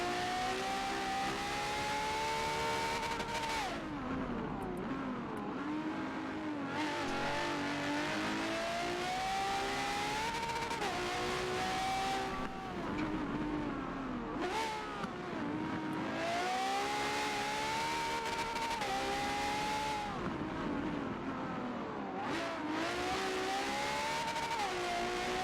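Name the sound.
race car engines at Brands Hatch in video game Forza 7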